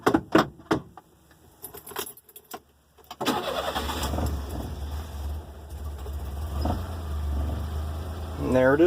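A 1988 Mitsubishi Minicab is cold started: keys jangle and click first, then the small engine cranks and catches, settling into a steady close idle with a brief rev near the end.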